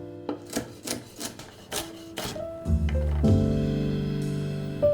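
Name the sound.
finely chopping a celery rib with a knife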